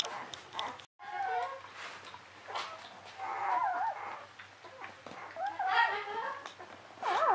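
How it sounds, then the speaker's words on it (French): Shrill squawking calls from a parrot rise and fall repeatedly over someone talking, with scattered chirps and rustling noise in the background. "Ça, c'est le perroquet que vous entendez."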